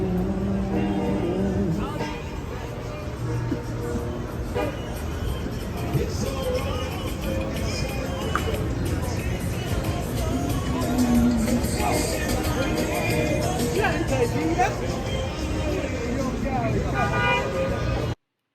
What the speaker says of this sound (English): I can feel the bass of the party bus.